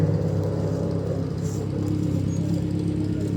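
A Morris Minor Traveller van pulls away at a busy British car show, its engine a low, steady mid-distance rumble that holds even with no sharp revs.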